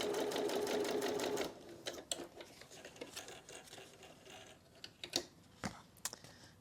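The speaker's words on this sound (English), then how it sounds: "as you can see, you can sew through the paste" A sewing machine stitches through paper and paste on a mixed media card, a fast steady whirring run that stops, followed by scattered clicks and handling noises.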